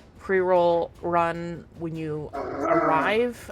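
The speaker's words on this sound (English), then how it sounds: "That was a dog bark." A dog barks several times in quick succession, loud and close, with yelping, whimpering tones during a multiplayer Warframe game stream, and a voice speaks briefly near the end.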